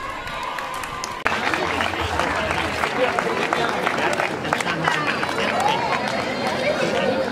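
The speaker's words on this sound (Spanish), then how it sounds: "Fuerte aplauso para Marina, Aitana, Marta, Aminata y Ruth." Outdoor crowd applause at a village road-race award ceremony, with clapping breaking out suddenly and carrying on steadily for several seconds, mixed with crowd chatter and a background hiss.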